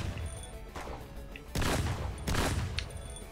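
Shotgun blasts in the video game Dragon Bros, two loud broadband bursts about a second apart over a busy bed of game music and effects, with a few smaller shots before them.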